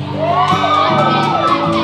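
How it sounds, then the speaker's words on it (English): A dinner-show crowd at a live comedy show in Union City shouts and whoops loudly together, a short burst of overlapping voices yelling in response. "Somebody scream."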